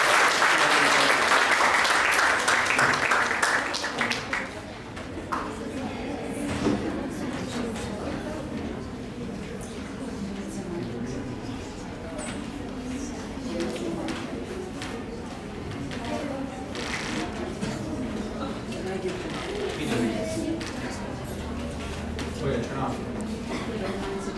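Warm audience applause welcoming a speaker to a talk, loud dense clapping at first that thins out after a few seconds into scattered claps under a murmuring crowd and some talk.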